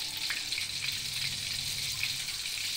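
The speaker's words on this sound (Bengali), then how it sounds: "এতে আমি দুটো শুকনো লঙ্কা ফোড়ন দিচ্ছি" Two dried red chillies tempering in hot ghee and oil make a soft, continuous crackling sizzle with faint pops, heard alone at low volume.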